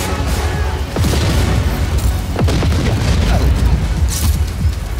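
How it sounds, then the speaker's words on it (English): A rocket launcher fires in the Just Cause 4 video game during heavy gameplay, with continuous booming explosions, crackling bursts and debris crashes layered over a loud, rumbling background. "Let's take a rocket launcher this time."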